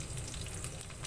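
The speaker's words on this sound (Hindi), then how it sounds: "प्याज डालने के बाद इसको काफ़ी अच्छे से भून लेते हैं" Chopped onions frying in a pan for a village-style cauliflower curry, a close, steady sizzle and crackle of hot oil that runs without a break and without any talking.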